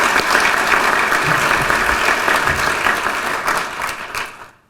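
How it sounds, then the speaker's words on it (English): An audience applauds at a university distinguished alumnus award ceremony, steady loud clapping throughout that fades and cuts off at the end. "Big round of applause for Alys"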